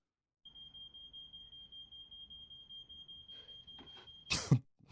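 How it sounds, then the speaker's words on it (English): A steady high electronic alarm tone drones for several seconds in a scene from Pulp Fiction, faint and continuous, then a sharp sneeze-like burst cuts in near the end. "We're gonna turn off the fire alarm"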